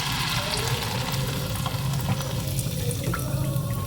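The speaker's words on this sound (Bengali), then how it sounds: "অল্প অল্প করে দিয়ে ভেজে নিতে হবে" Small batches of rice fried in boiling oil give a constant loud sizzle and dense crackling hiss, heard up close and unbroken.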